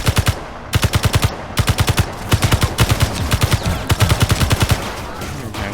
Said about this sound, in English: You still shooting at me?